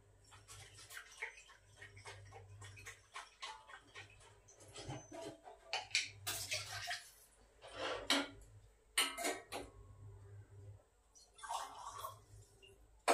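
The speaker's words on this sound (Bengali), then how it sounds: "ভাবলাম যে একটু গরম জল করে ঘিয়ের শিশিটাকে আগে ধুয়ে নিই" Washing a glass ghee jar with hot water: running water and splashing come in bursts, with clinks and taps of glass and scattered knocks against a faint low hum, recorded close and fairly quiet.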